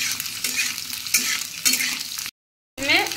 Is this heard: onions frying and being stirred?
yes